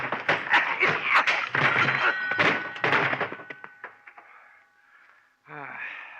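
A chair is thrown and crashes in a radio drama, heard as a sequence of heavy thuds and breaking clatter mixed with a narrating voice, ending in a short spoken line after a brief pause.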